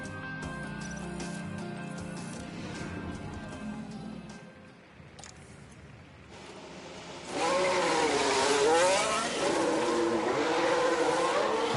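Race car lapping in F1 Manager 23, a steady engine drone that fades near the middle, then returns louder as a high, rising and falling whine of revs, with no talking.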